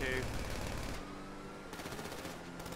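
Rapid automatic gunfire rattles during a botched bank heist in a Grand Theft Auto V role-play session, a fairly loud chattering burst that tails into scattered shots, with no voices.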